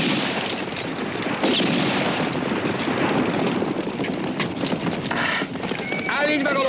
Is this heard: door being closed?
no